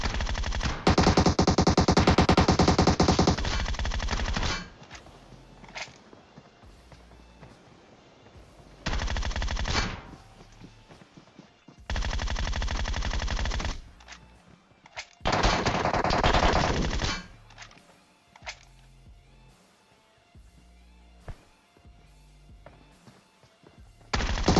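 Automatic rifle fire in the PUBG battle game, including an AUG, sounding as long loud bursts of rapid shots separated by quieter gaps with scattered single cracks and thumps.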